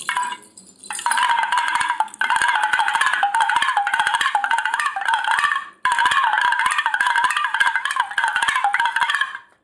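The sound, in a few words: kudukuduppai hand drum played without its bells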